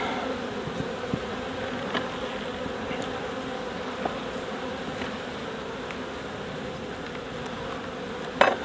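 Honey bees buzz steadily on a hive frame in a hive troubled by small hive beetles, a dense close-up drone that holds for several seconds with faint clicks and a bump near the end.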